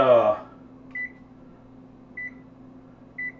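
Three short, identical electronic beeps from an oven control panel, evenly spaced about a second apart, while the oven is set to 400 degrees, with a voice speaking briefly at the start and a low steady hum underneath.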